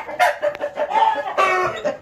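A fighting rooster clucks repeatedly in short bursts, close by, with a few sharper squawks mixed in.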